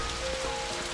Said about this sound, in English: I want to hear the raindrops falling when you do